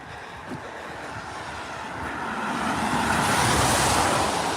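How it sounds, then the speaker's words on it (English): A car approaches and passes on a wet road on a rainy morning during a dog walk, its tyre hiss swelling steadily louder and closer over a few seconds with no talk over it. "Got a car coming."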